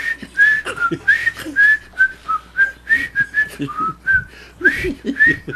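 A person whistles a famous sitcom theme intro, a bouncy, catchy tune of short clear notes rising and falling in a jaunty rhythm, with some soft rustling underneath.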